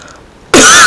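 A single loud, sharp cough bursts in close to the microphone after a quiet stretch and carries on strongly to the end, with no talking.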